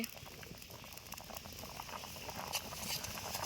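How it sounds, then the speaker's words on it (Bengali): Potato curry with peas boils and bubbles in a pot cooked outdoors for a picnic, with a soft continuous patter of popping bubbles, quiet and close, gradually getting a little louder. "টকবক টকবক টকবক করছে।"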